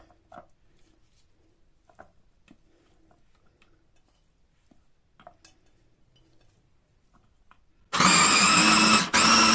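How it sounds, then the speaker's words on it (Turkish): A food processor blends peppers and tomatoes into a thin paste, its loud, steady whirring bursting in abruptly near the end after several seconds of faint kitchen clinks and handling noises. "biberimi robotun içerisine alacağım. Bunları ince salça haline gelene kadar e, çekeceğim."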